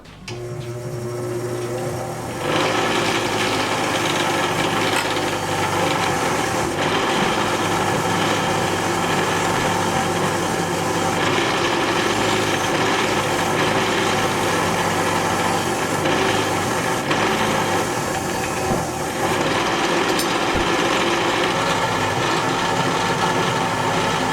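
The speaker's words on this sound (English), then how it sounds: "I'll be here at the wire wheel, trying not to shave off my own knuckles." A wire wheel grinds on drum parts during restoration, kicking in after a brief quieter start and then roaring as a loud, steady, harsh whir for the rest of the stretch.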